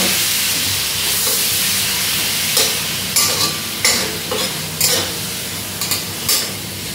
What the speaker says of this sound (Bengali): জিরে ফোড়ন দেওয়ার পরে আমি এই কেটে রাখা টমেটো দিয়ে অ্যাড করে দেব। এগুলোকে একটু ভেজে ভেজে নেব।